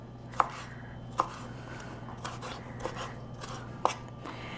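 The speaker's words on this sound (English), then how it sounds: "Now what I'm doing is going to start chopping up the tomatoes." A knife chops tomatoes for tacos on a board in a home kitchen, giving a handful of crisp, irregular chops over a quiet background hum.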